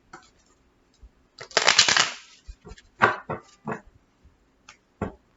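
A deck of cards is shuffled for a tarot-style reading, giving a rough riffling burst of about a second, then a few shorter shuffles and taps, close and fairly loud, with no talking.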